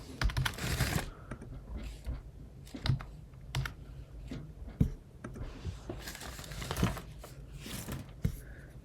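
Fingers type on a computer keyboard during a game, producing a close, steady patter of clicking keystrokes with small pauses and slightly louder taps scattered throughout.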